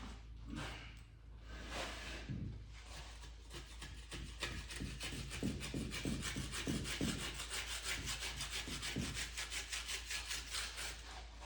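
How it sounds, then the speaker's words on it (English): Flashing is scraped off a mold box, giving continuous close rasping strokes in a steady rhythm over a low background hum, with no talk. "I'll flip it and get the flashing off this side"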